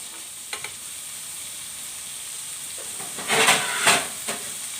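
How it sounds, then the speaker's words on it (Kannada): Carrots, beans and onion fry in a covered pan with a low, even sizzle, then a couple of louder bursts of hissing and stirring near the end. "ಈಗ ತರಕಾರಿ ಎಲ್ಲ ಚೆನ್ನಾಗಿ ಫ್ರೈ ಆಗಿದೆ"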